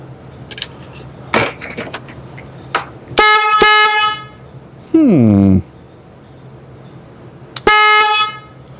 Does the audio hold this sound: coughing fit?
no